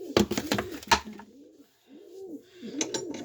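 Soft, repeated coos from a gray pigeon or dove perched at the top of a bar, heard near and fairly clear, with a few sharp clatters at the start and a short pause midway.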